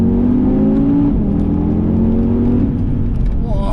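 An Audi TT RS Roadster's engine revs hard under acceleration on an open road, a loud, steady, rising drone heard from inside the car with a short dip as the pitch shifts midway.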